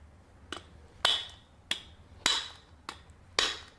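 A rubber hammer taps on a flywheel puller fitted to a 2-stroke engine from a 1/5 scale HPI Baja; six sharp, evenly spaced knocks ring out close up in a quiet room.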